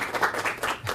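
A brief burst of audience applause at a financial coaching lecture, a quick crowd clapping that rises and falls in under a second.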